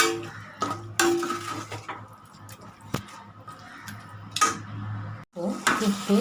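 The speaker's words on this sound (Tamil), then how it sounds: "இப்போ நல்லா கிண்டி விடுங்க" Chicken sukka being stirred in a pan, with a spoon scraping and clinking against the metal in irregular bursts over a soft, wet, sizzling background.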